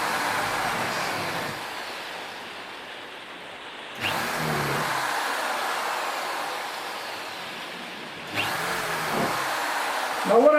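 Power drill boring holes in plastic buckets, a loud, steady whine held for about four seconds per hole, with three drilling runs separated by brief restarts.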